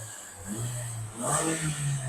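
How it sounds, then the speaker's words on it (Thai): A 2018 Toyota Altis 1.6 G, its original engine never converted to gas, is started by push button: a brief crank into a steady idle hum that swells slightly, heard close in a quiet setting. "เดี๋ยวผมสตาร์ทเครื่องให้ดูเลขไม้นะครับ"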